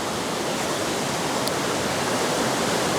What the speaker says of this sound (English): which leads down into this heavier sort of, well, rapids really it is now because of the amount of water flow